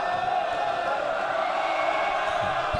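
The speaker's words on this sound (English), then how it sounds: "And the crowd heckling" A crowd heckling at a men's basketball finals game in an arena, a dense, steady roar of many voices heard at a distance, with scattered louder shouts.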